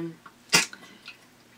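A single sharp sneeze bursts out, loud and close, with faint background noise before and after.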